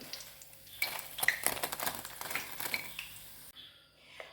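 Cauliflower fry cooking in a pan over a medium-high flame, with repeated clinks and scrapes of a utensil against the pan over a soft background sizzle, close and moderately loud, no talk.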